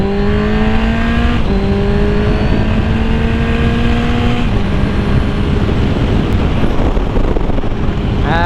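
A loud engine drones and climbs through rising pitch sweeps with distinct shifts, heard from a moving motorcycle with heavy wind rush across the microphone. No one speaks.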